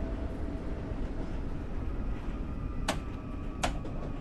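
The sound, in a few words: train driving in video game Train Sim World 4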